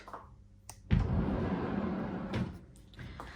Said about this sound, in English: So this door is a sliding door and it does have a lock.